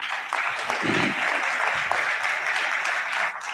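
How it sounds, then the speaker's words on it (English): Audience at a sovereign finance policy forum in Addis Ababa applauds the president in a sustained, dense round of clapping that fills the whole stretch at steady loudness, with a brief low voice or tone near the start. "I think Mr. President deserves a louder round of applause."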